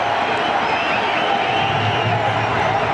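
Dense, steady roar of a large cricket crowd at a Pakistan versus India Champions Trophy 2009 match, with the Pakistan section cheering continuously, loud and sustained throughout with no pauses.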